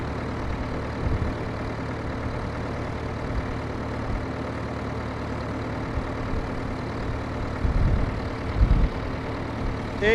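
An 820 tractor engine runs with a steady low drone in the background, dull and constant, broken by a couple of louder knocks and rumbles toward the end.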